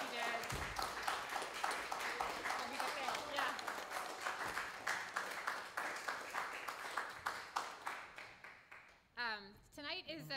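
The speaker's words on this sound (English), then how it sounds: "So I'd love if we could give him a big round of applause for the amazing work he did." Applause from an audience at a live music and scent performance event, a steady wash of clapping that runs throughout under some talk and cheering, thinning toward the end with a few pinging tones.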